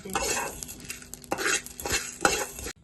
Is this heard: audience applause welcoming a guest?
no